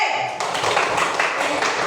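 A classroom group claps together for a student team, a dense burst of small hands beginning sharply and carrying steadily to the end, close and lively in a room with a little chatter.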